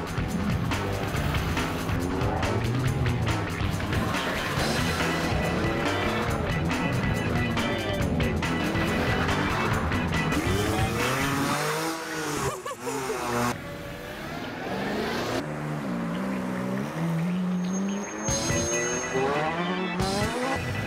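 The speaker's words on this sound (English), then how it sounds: "With the revs building as the cars queued to get out of the car park" Several car engines rev and rumble close by as vehicles queue to leave a car park at the start of a road-rally run, loud and continuous with a tire squeal, and a person talks over it.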